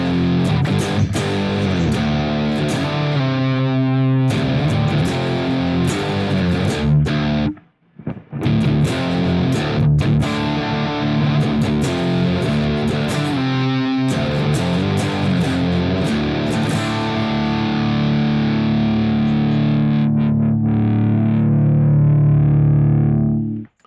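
Electric guitar through BIAS amp simulation gives a thick, heavily distorted tone, playing loud sustained chords and riffs with one brief pause midway, close and dense, with no talking.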